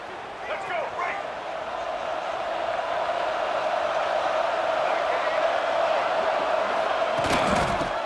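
A College Football 26 stadium crowd roars in a steady, loud wash throughout, with a commentator talking over it and a brief burst of noise near the end.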